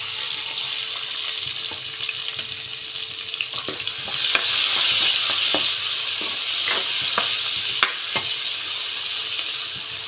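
Thinly sliced onions fry in hot oil as a continuous loud sizzle with scattered crackles and occasional stirring clicks while they turn light golden for a mushroom curry, with no voices.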